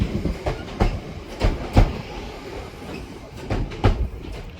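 A Class 323 electric train terminating from Crewe rolls through Manchester Piccadilly with rhythmic clickety-clack wheel beats over a steady low rumble, fairly close and without voices.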